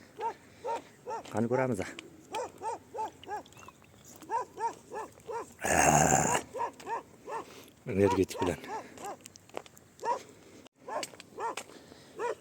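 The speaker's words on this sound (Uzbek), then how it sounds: "Itlar bor ekan, la'nat." Dogs at the edge of the city of Grozny bark in a long series of sharp, repeated barks at mid distance, with a few louder bursts, while someone speaks intermittently over them.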